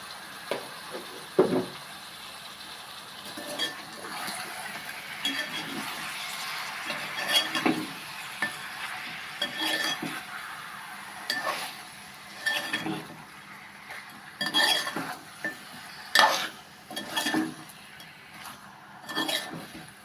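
Chicken curry being stirred in a pan with turmeric added, giving a steady low sizzle and soft scraping with occasional utensil clinks against the metal, fairly close and with no talking.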